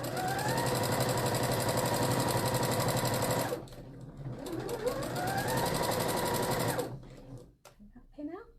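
Sewing machine stitching silky fabric for a party skirt, running loud and steady in two long bursts with a short pause between, then stopping; a voice talks faintly underneath.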